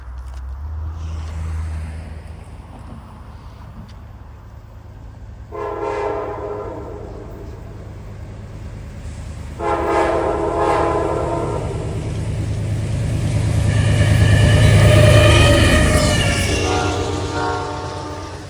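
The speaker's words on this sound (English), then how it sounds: "And there goes Amtrak PO41 headed for Rocky Mount for its next stop." Amtrak passenger train P041 passing at North Collier, a loud rumbling roll building toward the end, with several long horn blasts in separate bursts along the way.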